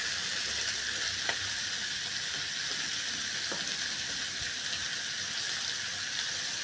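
Mixed mushrooms sautéing in a pan for a stir fry give off a steady, soft, continuous sizzle with faint occasional stirring clicks.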